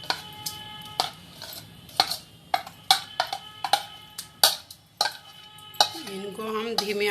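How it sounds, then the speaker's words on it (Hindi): A utensil stirs ginger halwa in a pan over low heat, giving close, repeated metallic scrapes and clinks in an uneven rhythm, with a brief tonal sound near the end. "इनको हम धीमी आंच पे लगातार चलाते हुए सबको बनाएंगे"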